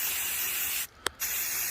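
An aerosol can of spray paint blasting silver onto an anthill casting: a loud, close, steady hiss that cuts out briefly, gives a short sharp burst, then resumes.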